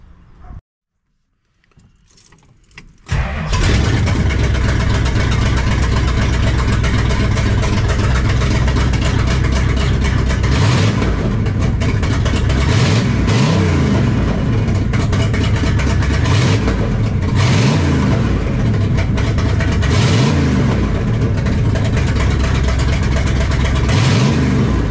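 A 1968 Dodge Charger R/T V8 with a Demon carburetor cranks briefly, then fires up loud and close, settling into a rough, lumpy idle punctuated by repeated throttle blips and revs.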